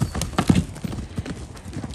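A gaited horse cross cantering on the wrong lead behind produces an uneven run of close hoofbeats with a faint whinny, and a voice speaks briefly in the background.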